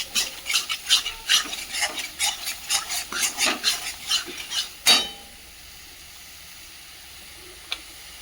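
Spice paste being stirred and fried over a high flame for a fish and potato curry, with a steady rhythmic scraping and sizzling of repeated strokes that stops partway through, leaving near silence and one faint clink.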